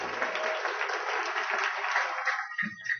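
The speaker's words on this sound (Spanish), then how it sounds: "Démosle un aplauso al Rey." Congregation applause at a Spanish-language church service, a steady dense wash of clapping for about two and a half seconds before it thins out into a few scattered claps and fades.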